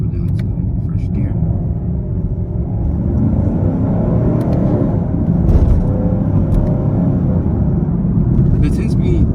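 A 2020 Chevy Camaro 1SS accelerating in first gear gives off a loud, deep engine rumble heard from inside the car, sustained and heavy throughout, with a few faint higher clicks and whirs over the low growl.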